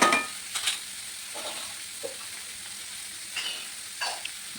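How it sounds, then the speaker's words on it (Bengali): Ash gourd and dal are stirred in a pan, with a soft sizzle running throughout and several scraping strokes of a spoon against the pan, loudest at the very start. "এখন আমি খুব ভালো করে নেড়ে চেড়ে নেব।"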